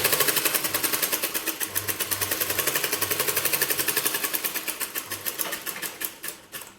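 A sewing machine stitches piping onto a blouse in one long run of rapid, even needle beats that slows into separate thumps near the end, close and loud with no talk.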